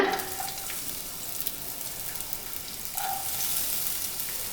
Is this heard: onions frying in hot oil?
yes